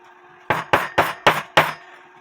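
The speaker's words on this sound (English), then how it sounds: "then you just readjust the wire and hammer it down some more" Five sharp hammer strikes on a wire land in quick, even succession, close and loud, over a faint steady hum, during repair of an 1880 Black Forest shield clock.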